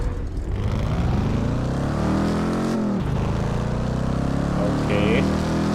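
Car engine in the Test Drive Unlimited 2 racing game, a car with a 3-speed gearbox, roaring loudly and continuously as revs climb, drop sharply at a gear change, then climb again, with a brief higher tone near the end.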